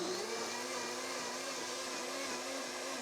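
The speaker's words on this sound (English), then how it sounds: "we're going to blend this first. So let's go on over to the blender." A blender runs steadily at high speed, whirring loudly as it purées watermelon seeds with water, a constant dense motor roar with no break throughout.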